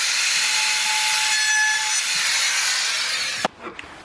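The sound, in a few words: cutting hinge mortise in wood with a jig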